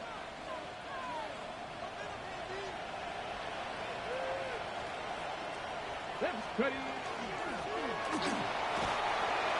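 Stadium crowd noise in the Madden 26 football video game, a broad continuous roar and murmur that holds steady and swells toward the end, with a few whistle-like tones and voices talking over it.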